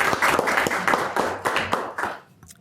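Small audience at a city meeting applauding, a short burst of scattered clapping from a modest group that fades out after about two seconds.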